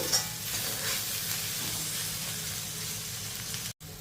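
Garlic fries in a pan alongside okra pieces, making a steady, moderately quiet sizzle with faint stirring, then a brief cut-out near the end.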